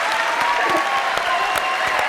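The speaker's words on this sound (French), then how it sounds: "Nous vous applaudissons" A French TV studio audience claps steadily and evenly, a dense wash of hands at moderate loudness throughout the short moment with no pause.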